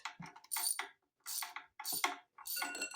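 Breaker bar on a swivel socket loosening engine bolts on a 1948 Case VA tractor, four short bursts of ratcheting, clicking metal spaced by brief silences, close by.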